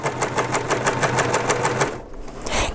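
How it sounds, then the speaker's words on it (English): A sewing machine runs fast through fabric under a ruffling foot, gathering material for a broomstick skirt. Its steady rhythmic whir goes on for about two seconds, then stops, followed by a short faint clatter. "I'm going to sew with it under the ruffling foot. As I sew, the machine is automatically going to ruffle it"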